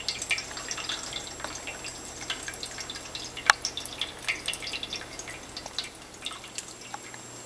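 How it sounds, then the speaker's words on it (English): Water trickling in a stainless steel pet drinking fountain, a Drinkwell 360 with its flow turned up, heard as faint continuous splashing with scattered small drips over a low steady hum. "You can adjust the water flow by turning the top."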